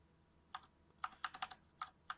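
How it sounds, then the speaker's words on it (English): A modified key on a Razer BlackWidow Chroma V2 mechanical keyboard is pressed repeatedly, giving about ten crisp, close clicks in an irregular rhythm over a quiet background, with no talking. "this is a modified key. This is the noise it makes."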